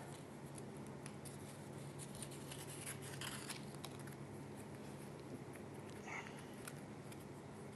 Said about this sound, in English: We'll roll the gold foil and cut